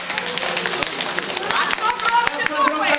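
Irregular clapping hands from a small group at a St. Nicholas Day children's celebration, sharp claps scattered over children's voices and chatter.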